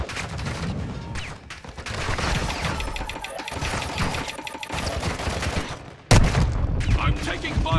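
Rapid automatic gunfire and bursts of shots in the Call of Duty DMZ video game, loud and dense with a sharp blast near the end, mixed under radio-style voices.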